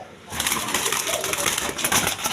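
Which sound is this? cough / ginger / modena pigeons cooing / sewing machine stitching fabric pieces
modena pigeons cooing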